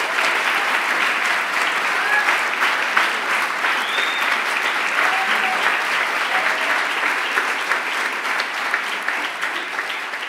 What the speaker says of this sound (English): So please give a massive round of applause to Nancy Hungerford.